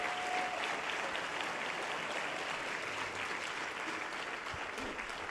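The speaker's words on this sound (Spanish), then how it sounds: "Fuertes aplausos al Señor." A church congregation applauds in a sustained, dense wash of clapping that stays steady for several seconds, moderately distant and filling the room without any speech over it.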